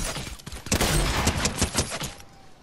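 Fortnite video game gunfire: a rapid, close burst of repeated shots lasting about two seconds, loud and dense, then cutting off, with no speech over it.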